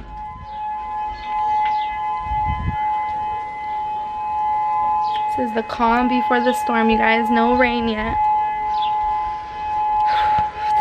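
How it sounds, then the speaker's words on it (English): Outdoor civil defense sirens warn of an approaching hurricane, a steady distant tone persisting throughout, while a person speaks over it in the middle. "there's the sirens letting us know Hurricane Lane is on its way"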